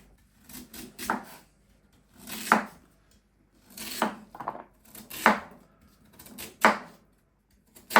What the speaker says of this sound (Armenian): Սկսում ենք կտրատել։